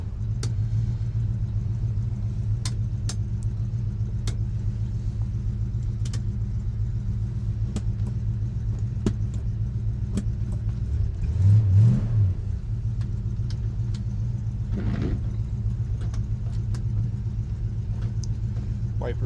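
A restored Ford Mustang coupe's 289 V8 idles with a steady, close rumble, rising once into a brief rev before settling back, with a few faint clicks over the idle.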